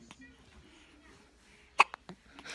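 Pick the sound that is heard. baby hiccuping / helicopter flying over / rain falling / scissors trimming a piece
baby hiccuping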